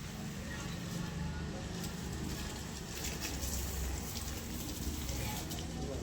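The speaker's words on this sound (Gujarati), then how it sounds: "વરસાદ આવ્યો" Steady rain pours down outdoors, a dense continuous hiss of drops on surfaces filling the whole stretch, loud and close.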